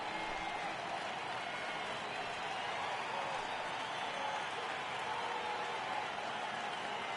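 Stadium crowd in the baseball video game MLB The Show 18, Athletics vs Indians: a steady, dense murmur and roar of spectators fills the whole stretch at an even level, with no distinct voices standing out.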